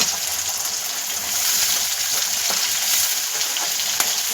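Onion and whole green chilies frying in hot oil in a home kitchen, a steady close hiss of sizzling with faint stirring scrapes now and then, no talk.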